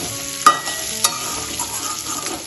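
Potato pieces tossed in turmeric fry in hot oil, giving a steady soft sizzle broken by two sharp stirring clinks near the start.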